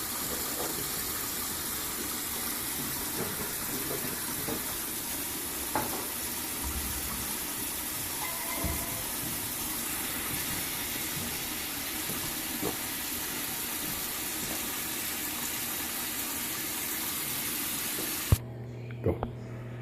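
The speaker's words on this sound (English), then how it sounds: "Put it over here in the sink, get it full up." Tap water runs steadily into a kitchen sink being filled to chill homebrew beer, a broad continuous rush lasting most of the clip with a few small knocks, then cutting off near the end.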